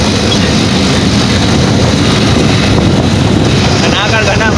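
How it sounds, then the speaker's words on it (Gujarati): A tractor drives along a village road, its engine a loud, unbroken rumble mixed with heavy wind buffeting for the whole stretch. "સંતોષભાઈ બહુ ખતરનાક ટ્રેક્ટર ચલાવે છે"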